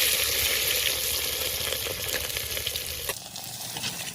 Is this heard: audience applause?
no